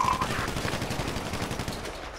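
Rapid gunfire raining on a player in a video game, a steady stream of close, loud automatic shots rattling in quick succession for a couple of seconds.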